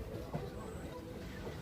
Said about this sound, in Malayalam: കാരൂർ എന്ന് പറയുന്ന സ്റ്റേഷനിലൂടെയാണ് ട്രെയിൻ ഇപ്പോൾ കടന്നു പോകുന്നത്